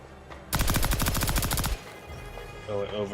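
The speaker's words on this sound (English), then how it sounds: "Air-cooled machine gun." An air-cooled machine gun in the Viking survival game ASKA fires a rapid, loud burst of evenly spaced shots lasting just over a second, then stops as a voice speaks briefly afterward.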